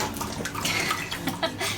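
A dog laps up a drink of water indoors, a steady wet splashing and slurping that carries on without a break for the whole stretch, fairly close to the microphone.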